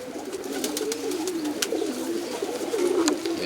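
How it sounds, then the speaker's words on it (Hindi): Pigeons coo steadily and close by in a loft kept for racing-quality birds, a low rolling murmur running throughout with a few sharp chirps above it and no talk. "ये भाई रोबिन भाई की सभी मतलब मेन नस्लों के कबूतर हैं"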